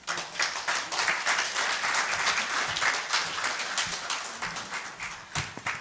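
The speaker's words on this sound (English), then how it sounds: "So we clap for her until she sits," Close, lively clapping from an audience at a citizen assembly on debt and anti-corruption, many hands giving sharp, dense claps that rise and fall slightly in strength and continue for several seconds.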